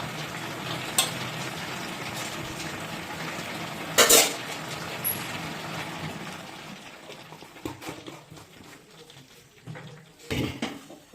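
Cauliflower and potato curry with ghee stirred in a pan, giving a soft sizzle with occasional spoon knocks and scrapes against the metal, quieter toward the end, no talking.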